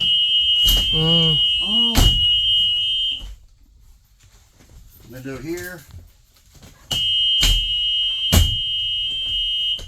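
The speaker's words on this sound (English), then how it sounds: "So that buzzer will tell you if a emergency exit is open." A school bus emergency exit alarm buzzer sounds loudly, shrill and steady, cuts off, then starts again, with people talking briefly and a few clunks in between.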